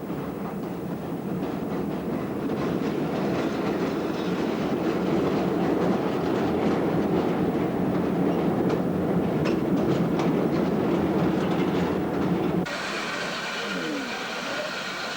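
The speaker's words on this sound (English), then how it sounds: "The train sets out towards Hyderabad, crossing the Indus at Kotri River Bridge." A train rumbles steadily with rhythmic clattering of wheels on the track as it crosses the Kotri bridge over the Indus, loud and close, shifting in tone near the end.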